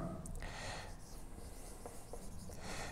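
Chalk or a marker scratches across a classroom board in quiet, continuous rubbing strokes with brief pauses, faint and close.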